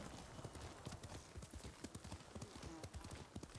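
Horse hooves clip-clopping at a steady rhythmic gait while riding in the video game Ghost of Tsushima, a dense series of distinct thuds, fairly close but quiet overall.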